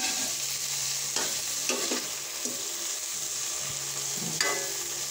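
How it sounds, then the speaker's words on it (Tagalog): Papaya and shrimp sauté in a pan, a steady bright hiss of frying with a few scraping stirs and soft clunks from a spatula spread across the stretch. "Igigisa ko lang to dito tapos lalagay ko na yung aking gata bago yung papaya."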